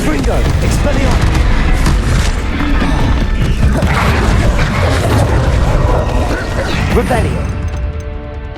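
Magic spell blasts from the Confringo and Expelliarmus spells in the Hogwarts Legacy video game during an arena battle: loud, dense crashes and booming impacts that pile up continuously, with game voices mixed in.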